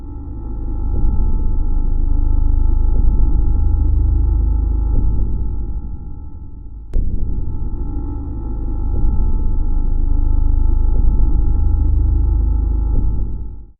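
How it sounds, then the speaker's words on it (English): A steady high ringing tone, like ringing ears, hangs over a dense low drone in a horror video game soundtrack, continuing with a brief break midway and then resuming. "then adding something akin to ears ringing"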